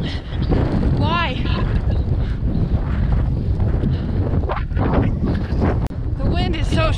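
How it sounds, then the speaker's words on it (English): Strong wind gusts of about 50 mph buffeting the microphone outdoors during a run, a loud continuous roaring rumble with brief breaks, and a voice talking faintly through it. "The wind is so strong. I'm having to like lean into it when it gusts."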